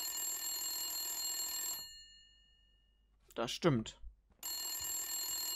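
An old-fashioned telephone bell rings in bursts in the noir detective game Blacksad: Under the Skin, a loud metallic trill that stops for a spoken line and then resumes ringing.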